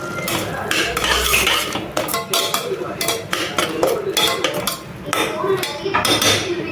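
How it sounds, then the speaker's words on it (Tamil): A spoon stirs mutton masala and mint in a metal cooking pot, giving close, busy scraping and clinking that continues without a break under faint kitchen noise. "கொஞ்சமாக மட்டன் மசாலா ஒரு கிளறு கிளறி விட்டுக்கலாம்"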